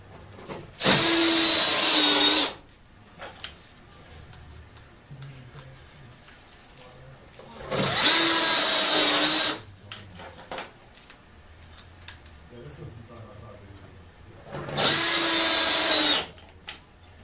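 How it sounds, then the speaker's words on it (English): A two-speed power drill in a basement workshop whines at full speed in three bursts of about two seconds each, loud and close, with quiet pauses and faint handling clatter between runs. "Two-speed drill, high for drilling, low for running screws in."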